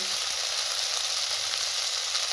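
Green chilli and prawn masala sauté in mustard oil, giving a constant close sizzle and crackle at an even level with no pauses.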